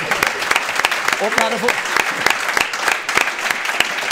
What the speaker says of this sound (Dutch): En dat vind ik eigenlijk ook wel een applaus.